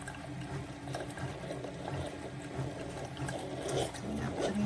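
Coffee streams from a SIFENE 3-in-1 single-serve pod coffee maker into a cup, a continuous soft liquid trickle and splash with faint clicks and bubbling, steady throughout at close range.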